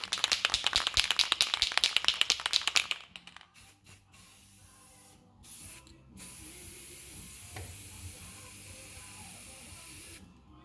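Semi-gloss black spray paint goes onto a steering wheel: a can rattles rapidly as it is shaken, then steady hissing bursts of spray follow with short pauses between them.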